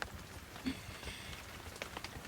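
Steady rain patters on a surface, a soft continuous hiss with scattered drop taps, faint and even throughout with no voices.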